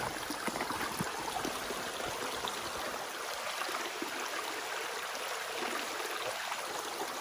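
A natural creek flowing over gravel and layered rock on rural land, a steady, fairly quiet rushing and trickling that continues evenly throughout with no talk.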